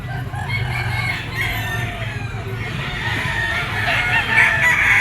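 Roosters, stags among them, crow and cluck amid a busy poultry yard, with overlapping calls rising over a low steady background hum.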